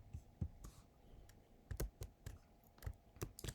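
Close, quiet computer keyboard keystrokes during a Laravel coding session, scattered clicks and short bursts of taps, some doubled as in shortcut combinations.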